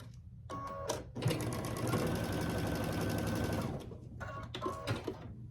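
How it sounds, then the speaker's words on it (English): A sewing machine stitches a quilt block for a Grinch quilt, running in a steady, fast mechanical whir for a few seconds between shorter bursts of stitching, close and clear with no talking. "So I'll stitch it together."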